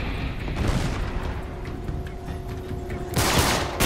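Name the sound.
grenade explosions in the video game Uncharted 3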